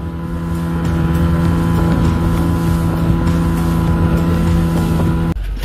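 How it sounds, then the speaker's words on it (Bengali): A speedboat crosses the sea near Maheshkhali island, its loud, steady engine drone mixed with rushing wind noise throughout until a sudden drop near the end. "সমুদ্রের মাঝে স্পিড বোটে অনেক ভয়ঙ্কর লাগলেও কিন্তু অনেক মজা ছিল"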